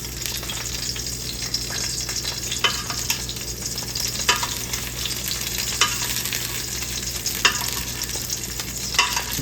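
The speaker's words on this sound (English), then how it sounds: "I'm moving the oil around a little. I might even see if I can spoon some on the top, kind of baste it." An oily fish pan-fries in hot oil, a steady close sizzle with a spoon scraping and clinking now and then as oil is basted over it, and no talk.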